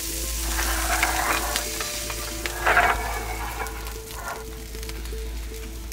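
Fingerling potatoes seasoned with salt and pepper sizzle steadily inside a wood-fired oven, a continuous crackling fry with scattered pops and faint clinks, heard alone without talk.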